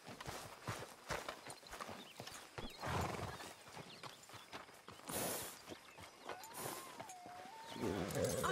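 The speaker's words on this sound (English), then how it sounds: "Arthur, get that horse out of here" Clopping horse hooves and a rising whinny in the Western game Red Dead Redemption 2, rhythmic hoofbeats with a clear neigh over faint background ambience and speech.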